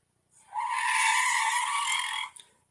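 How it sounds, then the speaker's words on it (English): A tire screech sound effect, a loud sustained squeal lasting nearly two seconds that starts abruptly, holds steady and cuts off, heard alone without talk. "Tire screech."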